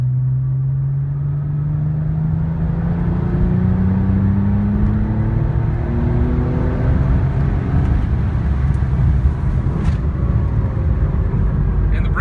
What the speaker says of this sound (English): I'll show you the spool here. This is a 4th gear pull.